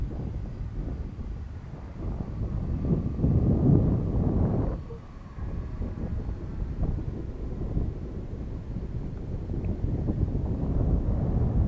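Wind gusting through an open valley field where a model plane is flown, a steady low roar with buffeting against the microphone, surging and briefly easing midway.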